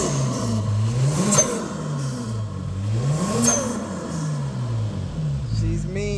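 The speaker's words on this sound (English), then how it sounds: "Let's see what it sounds like when it revs." A Genesis G80 3.3T engine fitted with an intercooler and full piping kit rises and falls through two close, loud revs over a steady idle, with a voice speaking briefly near the end.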